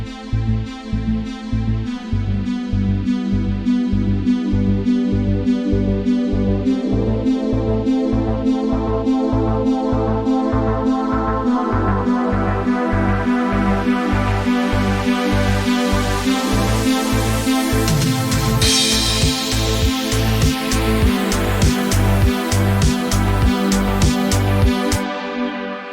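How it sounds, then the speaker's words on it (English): Synthwave track intro where the melodies and bass start filtered down and a filter sweep gradually opens up, with a steady pulsing bass rhythm and a rising noise swell near the end, loud and continuous. "So let's first hear an example of this filter sweep in the intro."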